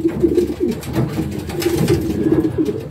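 Close pigeons coo repeatedly in low, throaty, rolling calls, several birds overlapping steadily with no talk.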